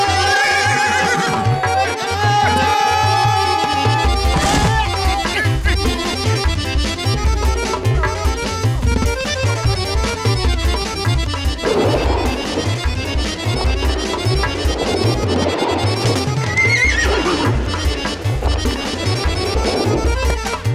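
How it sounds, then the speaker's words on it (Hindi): A horse neighs and whinnies in a Hindi kids' cartoon, loud and mixed over a busy musical score with a bouncy, rhythmic beat that carries on after the neigh. "ऐसा लगा जैसे घोड़ा हंसा।"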